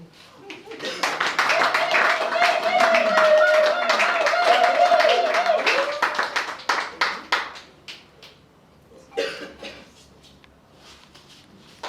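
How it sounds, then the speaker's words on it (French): An audience at a certificate ceremony bursts into loud, sustained clapping for a student that swells for several seconds and then fades into scattered claps as people start talking. "Et nous allons l'acclamer très fort."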